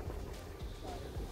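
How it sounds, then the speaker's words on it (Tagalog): Strong wind gusting across a river bridge in Queen Elizabeth Park, Edmonton, a steady low roar and buffeting close to the microphone throughout, with no talk. "Ang lakas ng hangin oh."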